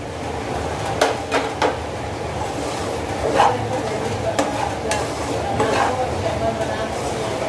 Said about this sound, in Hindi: एक मिनट इसको भुजाई करेंगे अच्छे से ताकि तिल पूरा भून जाए